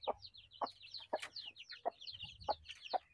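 Chicks and chickens in a backyard poultry coop give a quick series of sharp clucks and peeps, close and fairly faint, with no voices.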